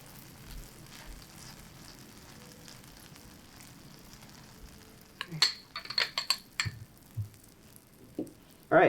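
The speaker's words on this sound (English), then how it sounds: "And you hear that sizzle." Buttered bread laid butter-side down in a hot frying pan during a cooking demonstration gives faint, soft sizzling, followed by a few sharp clinks and scrapes of utensils against the pan.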